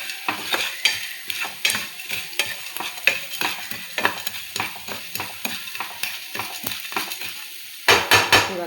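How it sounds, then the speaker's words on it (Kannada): Ajwain, black pepper and other whole spices dry-roasting in a pan, stirred steadily with a spatula: rhythmic scraping strokes over a light sizzle, close and continuous, with a couple of harder clanks near the end and no talking. "ಕಾಳು ಮೆಣಸು ಎಲ್ಲ ಒಟ್ಟಾಗಿ ಹುರಿತಾ ಇದ್ದೀನಿ ನೋಡಿ"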